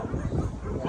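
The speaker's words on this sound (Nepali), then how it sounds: "अब यो कुकुर कति धेरै छ" Dogs give a short bark or yip, close and fairly faint, in a brief outdoor moment.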